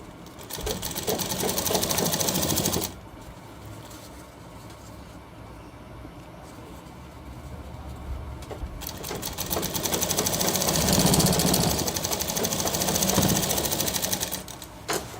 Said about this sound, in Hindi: फिर लगाई इसके ऊपर सिलाई।